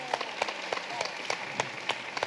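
Audience applause greets a panel speaker at a discussion forum, with a few clear claps in a steady, almost metronomic beat standing out over a soft wash of lighter clapping.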